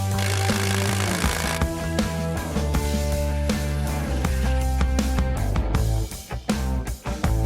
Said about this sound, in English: Now I lay them out on the ground and attach them with these 6-inch lag screws.